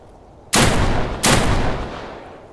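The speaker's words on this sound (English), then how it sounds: "And of course the sawed-off shotgun." Two loud, close blasts from a sawed-off shotgun in the video game Deadside ring out about three-quarters of a second apart, each with a long reverberant tail.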